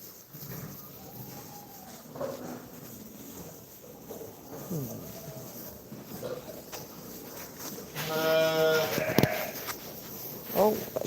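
A ewe bleats while lambing, with a short cluster of harmonic calls coming late, after a stretch of rustling and footsteps. People talk quietly nearby.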